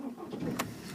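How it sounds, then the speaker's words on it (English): A car engine cranks and catches in a short burst, with a faint electrical whine and a brief bright click near the middle, heard close up with no talking. "Looking at the display whilst I start the car."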